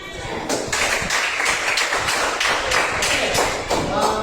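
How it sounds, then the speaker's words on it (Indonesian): Students in an Indonesian classroom clap their hands together, a dense steady patter of many overlapping claps with regular rhythmic accents, fairly close and loud throughout. "Tepuk tangan dulu."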